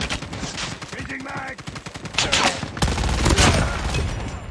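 Dense, rapid automatic gunfire fills a Call of Duty Mobile match. Overlapping bursts rattle continuously and grow louder and heavier partway through.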